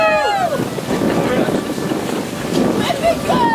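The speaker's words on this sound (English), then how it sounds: "They're getting whipped by the wind out here." Strong wind blasts across an open beach at Solana Beach, California, roaring steadily into the microphone with broadband rumble while a crowd of concert fans talks and shouts faintly underneath.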